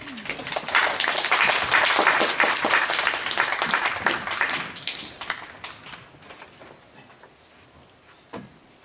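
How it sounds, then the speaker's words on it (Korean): An auditorium audience at a regional tourism business briefing claps to welcome a guest speaker: dense, loud applause that stays strong for about five seconds, then thins into scattered claps and fades out. "김기태 대표를 박수로 맞이하겠습니다"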